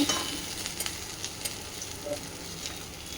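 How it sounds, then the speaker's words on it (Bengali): Vegetables frying in a kadai (wok) for dalia khichuri, a soft continuous sizzle with occasional scraping clicks of a spatula stirring, quiet and close. "একটু সবজিগুলো ভেজে নাড়াচাড়া করে কুকারে দিয়ে দেবো"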